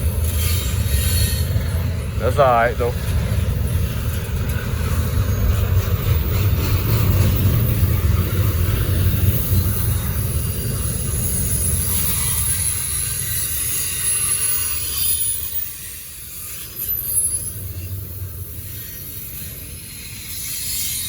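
A Norfolk Southern freight train rumbles past at close range in Gaffney, South Carolina, with a loud, continuous roll of wagons and a brief high wheel squeal early on. Someone speaks briefly over the noise.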